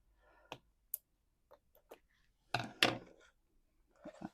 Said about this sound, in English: I need to snip the lace there.